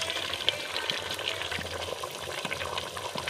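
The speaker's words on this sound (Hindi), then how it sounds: "तो अब हम इसमें 1/2 कप के करीब ऑयल डालेंगे।" Half a cup of cooking oil goes into a pan of beef karahi, giving a steady broadband sizzle and frying hiss with faint stirring clicks, close and continuous without talk.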